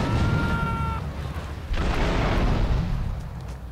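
A grenade blast in Grand Theft Auto III: a loud, broad explosion bursts out partway through and rumbles on, following a steady tone and low game noise, with no talk over it.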